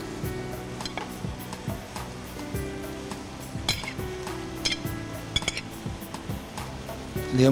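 Spaghetti chow mein sizzles in a hot pan with oil while a utensil stirs it, close frying hiss with repeated metallic clinks and scrapes of the tool against the pan.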